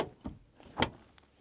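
A car door is pushed shut against a portable fridge wedged inside, giving two dull thuds, a softer one and then a louder one, followed by a faint click.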